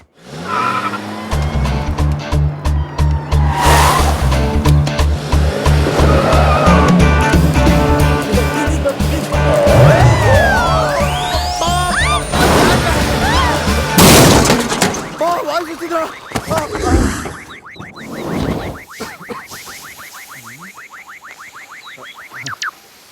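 A car chase and crash from a comic Telugu action film: engines roar and tires squeal, then there is a loud impact with crunching debris. Music and voices continue throughout.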